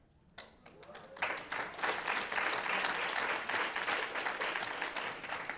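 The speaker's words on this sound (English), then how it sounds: "Here's another thing to clap for." Applause from a conference audience at a women's business conference, starting with a few scattered claps and swelling into steady, moderately distant clapping that continues to the end; faint murmurs sit beneath it.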